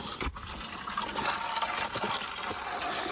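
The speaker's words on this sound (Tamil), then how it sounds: "இந்த தொட்டிலேருந்து நிரம்பி தண்ணி வெளியில் போச்சு" Steady rush of water overflowing from a tank, pouring and splashing continuously, a broad wash of liquid noise spilling over without pause.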